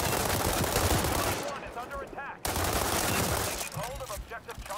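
An M416 rifle in the World War 3 shooter fires long automatic bursts, dense and loud up close, broken by a brief cut before another volley of rapid shots.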